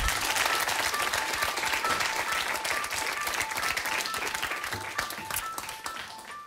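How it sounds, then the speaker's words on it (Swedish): Steady applause from a studio audience at a televised political debate on integration, continuous and moderately distant, with faint voices mixed in. "En liten applåd tycker jag."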